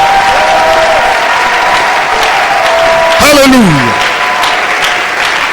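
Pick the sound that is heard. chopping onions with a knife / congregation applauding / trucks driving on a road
congregation applauding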